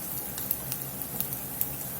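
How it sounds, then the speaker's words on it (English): Steady frying hiss of bacon in a pan with faint pops and crackles, close by, continuous throughout with no talking. "Got a little bacon sizzling up over here."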